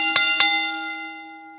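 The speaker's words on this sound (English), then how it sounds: "Ring the bell." A bell rings twice in quick succession to end a wrestling match, each strike sharp and loud, leaving a long ringing tone that fades slowly on its own.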